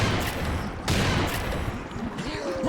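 Rapid gunfire in Serious Sam 2 crackles in dense bursts for nearly three seconds, close and loud, with a brief lull before more shots.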